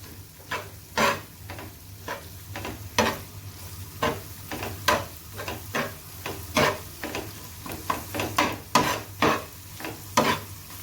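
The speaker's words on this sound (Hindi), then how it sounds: "अब इसको मैं 3 से 4 मिनट के लिए भूनूंगी ताकि सब्ज़ मिर्चों का और अदरक का जो उसकी खुशबू और उसका टेस्ट है वो कीमे के अंदर आ जाए" Spicy tawa keema frying with green chilies and ginger, with a low steady sizzle under a repeated rhythmic scraping of the spatula across the pan, close and fairly loud.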